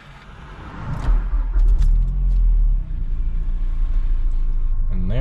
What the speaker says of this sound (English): And then let's go ahead and fire it up.